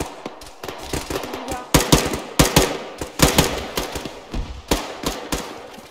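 Machine guns in the military shooter ArmA rattle in repeated short bursts, loud and close, with sharp cracks and brief gaps between volleys.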